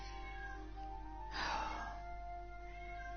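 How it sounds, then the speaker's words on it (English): A pet cat lets out one drawn-out, fairly faint meow in a quiet room, rising briefly above a low steady hum before fading back into the background. "that noisy ruckus you can hear is my cat"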